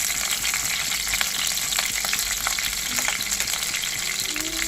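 Mustard seeds fry and crackle in hot oil in a pan on a stove, a loud, dense, continuous sizzle with rapid popping throughout.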